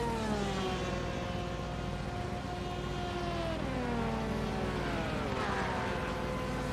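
A pace car engine idles by a corner at Monza in a racing video game, a steady mechanical drone with several tones gliding slowly up and down, heard alone without talk.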